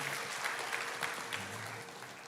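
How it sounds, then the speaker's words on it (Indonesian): A church congregation claps together in a sustained burst of applause, fairly distant and steady, fading slightly toward the end. "Berikan tepuk tangan bagi nama Tuhan."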